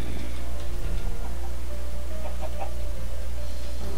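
Chickens clucking in Minecraft 1.10, a few short clucks over a steady droning game ambience and background music, moderately loud with no talking.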